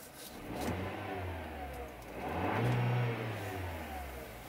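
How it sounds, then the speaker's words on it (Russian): Renault Kaptur 2020 with a 1.3-litre turbo engine and CVT revving at standstill, two rising throttle blips swelling and falling back to idle, close and fairly loud with no talk. "Немного погазуем."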